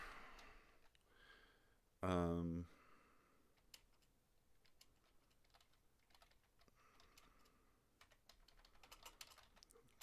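Soft, fast tapping of a quick text message on a phone, faint and continuous, broken by a short loud thump and light breathing.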